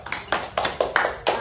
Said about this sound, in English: give applause to all of you.